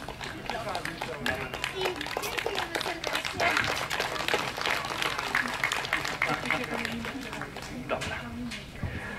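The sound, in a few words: audience applause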